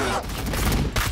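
Dense volleys of gunfire from the Warhammer 40k Battle Sector strategy game, Blood Angels campaign, with continuous overlapping shots that run the full second and dip briefly near the end.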